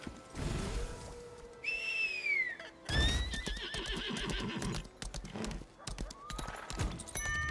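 In the video game Lost Ark, a horse whinnies loudly and its hooves clip-clop in quick succession, mixed with short whistling game tones and other sharp effects.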